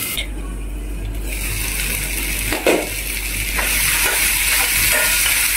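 Tomatoes and green chillies cook in a pan with a steady soft sizzle and hiss, broken by a brief clink and some stirring scrapes partway through.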